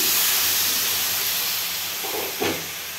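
Water poured onto spices frying in a hot pan sends up a loud, close steaming hiss that slowly fades, with a brief clink of a utensil near the end.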